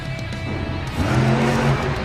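Race cars roaring through a drag race in a racing video game, engines droning steadily then rising in pitch as they accelerate hard, loud and close with no talk.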